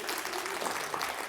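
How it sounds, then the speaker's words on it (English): An audience applauds with steady, dense clapping that fills the whole moment, moderately loud and without pauses. "Give her a big round of applause."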